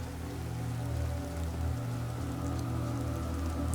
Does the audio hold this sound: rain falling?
yes